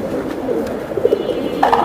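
Giribaz high-flyer pigeons cooing close by, soft repeated throaty coos over a steady hum of background noise, with no talk.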